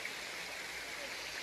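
The Nidan waterfall at Katangi near Jabalpur, Madhya Pradesh, gives off a steady, even rush of falling water, faint and distant, with no breaks.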